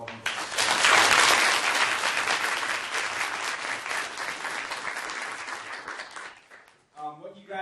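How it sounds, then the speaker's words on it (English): An audience at the final round of a competition applauds the competitors, a loud burst of clapping that swells early then gradually thins out, and a voice begins talking as it fades. "a round of applause is deserved for all of you."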